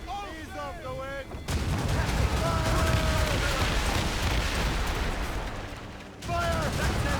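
Ship cannons in the Assassin's Creed Rogue video game fire in a loud naval broadside: a sustained, rumbling roar of overlapping blasts lasting several seconds, with shouting voices just before and after.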